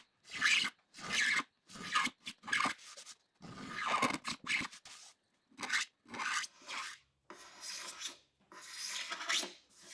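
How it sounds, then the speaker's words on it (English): A hand scraper drawn across guitar binding on a hollow-body guitar, blending the edge into the wood: a series of short, rasping strokes in uneven rhythm, close and fairly loud, with brief pauses between passes. "Now I'll scrape it to clean it up and blend it into the wood."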